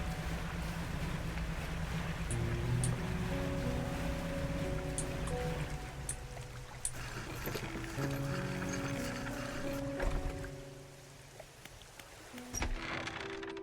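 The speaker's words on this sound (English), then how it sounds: "The waves are swirling and crashing against the basalt columns that surround you." Waves swirling and crashing against basalt columns in the fishing video game Dredge, a steady surging wash of water under low sustained musical tones, with occasional splashes.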